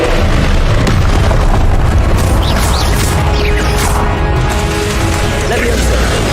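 Confringo spell explosions blast out in Hogwarts Legacy, loud booming bursts layered over dense, continuous game combat noise and music without any break.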